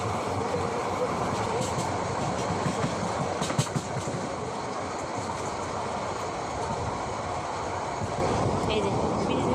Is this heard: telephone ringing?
no